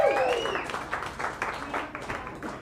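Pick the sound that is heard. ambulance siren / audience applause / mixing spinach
audience applause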